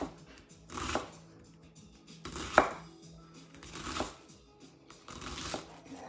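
A knife chopping food into medium pieces on a board, a few separate close cuts spaced out over several seconds, with faint background sounds between them.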